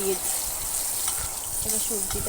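Vegetables frying in hot oil with salt and turmeric give off a steady, close sizzle, with brief scraping stirs and soft voices underneath.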